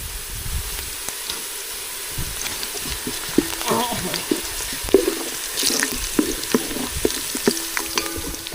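Green chillies fry in a pan for a homemade chicken curry, a continuous hiss of sizzling with scraping stirs and light clinks, alongside some running-water and kitchen clatter.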